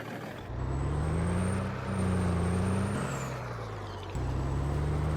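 A truck in Farming Simulator 22 drives with a steady low engine drone and a high whine, shifting pitch around midway, loud and continuous with no talking.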